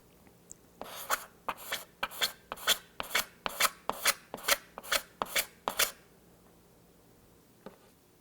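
Sandpaper on a Corian block is rubbed across a guitar finish in about a dozen quick, even strokes, close and crisp, with a short pause and one faint stroke afterward.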